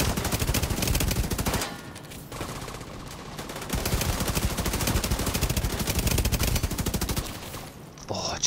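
Sustained rapid carbine fire in The Division 2 video game, dense automatic bursts with a short lull partway through, loud and continuous across most of the stretch.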